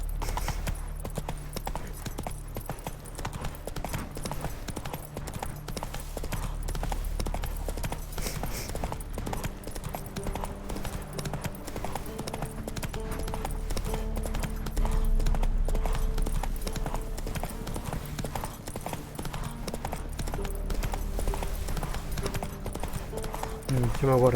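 Roach the horse gallops in The Witcher 3 video game with steady rhythmic hoofbeats throughout, under in-game music and someone talking.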